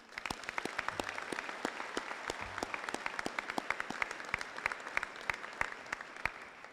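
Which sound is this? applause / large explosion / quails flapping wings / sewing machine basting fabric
applause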